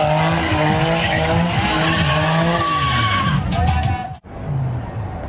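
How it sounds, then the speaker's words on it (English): Cars doing donuts at a street takeover, with loud, sustained tire squeals wailing and shifting in pitch over roaring engines, close and continuous before a brief drop and a fresh burst. "We saw cars doing donuts, burning tires, sending the smell of burnt rubber into the air."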